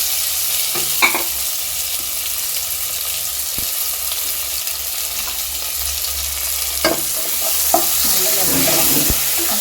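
Continuous sizzling of chopped jackfruit sautéing in a hot pan with intermittent spoon-stirring knocks and scrapes, close and steady, no voices.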